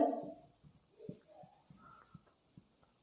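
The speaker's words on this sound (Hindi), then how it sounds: "तो यहाँ लिख लेते हैं" Chalk or marker scratches out short strokes on a board in a quiet classroom setting for a physics lesson, a few soft, irregular taps and scrapes close by with no talking.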